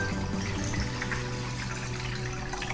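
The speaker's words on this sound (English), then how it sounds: "I will pour the water into the pan." Water pours into a pan in a steady, continuous splashing stream, close and moderately loud, with no talking.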